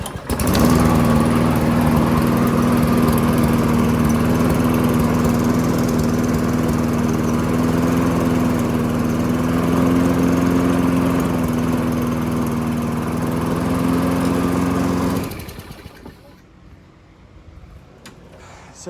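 A Toro Recycler self-propelled lawn mower engine runs loud and close at a steady, even drone for about fifteen seconds, then cuts out abruptly and leaves near silence.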